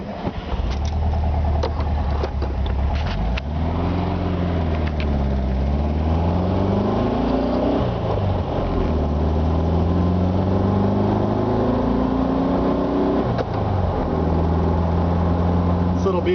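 A 1966 Volkswagen Beetle convertible engine runs steadily, its low hum rising and falling in pitch a few times as it revs, with someone talking over it throughout.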